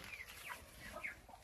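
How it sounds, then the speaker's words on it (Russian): Hens and young chicks in a pen under a mulberry tree cluck and peep softly, with several faint, overlapping calls close by. "цыплята, которые сидели с квочкой и которые были в вольере под шелковицей"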